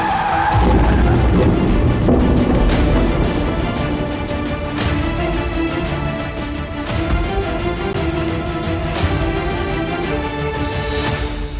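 A car's tires squeal in a long skid, loud and harsh, with a booming impact and dramatic music layered over the scene.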